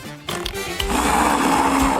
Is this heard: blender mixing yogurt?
yes